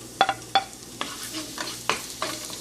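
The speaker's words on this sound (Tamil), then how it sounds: "இப்போ நம்ம பொடியாக நறுக்கி வச்சுருக்க பூண்டு கார்லிக் ஆட் பண்ணிடலாம்" A few sharp crackles and light sizzling bursts as chopped garlic drops into hot oil, with stirring scrapes between them, close by and moderately quiet.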